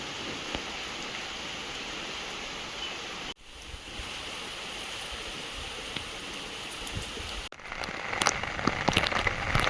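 Heavy monsoon rain falls steadily outdoors on a rural road, a dense continuous hiss of drops that briefly cuts out twice and returns stronger and more spattering toward the end.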